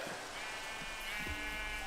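Sheep bleating in Minecraft, one or two short, faint bleats with a buzzy tone over quiet game ambience, close by.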